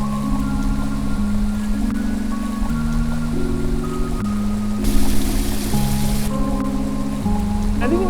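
Steady rain falls in Seward Park, Seattle, making a continuous hiss throughout. Steady pitched tones that shift in steps sound over the rain.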